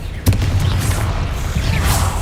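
A Confringo spell explosion in a video game bursts with a sharp crack, then a heavy rumbling boom that keeps churning, with whooshing swells layered on top, loud and close.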